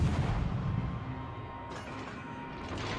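Warship guns fire in a World of Warships naval battle, a loud dense boom rolling at the start and fading into a sustained low rumble, with a second blast rising near the end.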